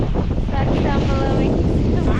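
Strong wind buffets a sailing boat under way on the water, a loud, continuous roar with gusty rumble against the microphone close up.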